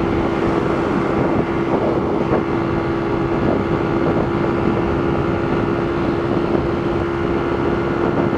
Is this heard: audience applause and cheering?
no